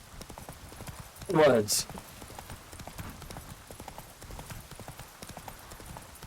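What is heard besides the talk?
horse hooves clip-clopping, Roach in video game Witcher 3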